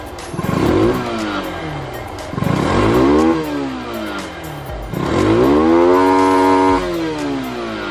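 A motorcycle engine revs hard three times toward high RPM, each burst climbing sharply and falling back, loud and close with no talk.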